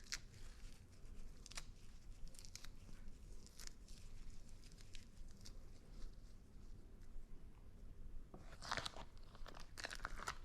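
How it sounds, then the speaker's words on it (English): Fresh basil leaves are torn apart by hand, giving quiet, close crisp ripping and crunching bursts that come in uneven clusters, stronger near the end, with no speech. "Now this is some fresh basil that we'll just rip up with our bare hands."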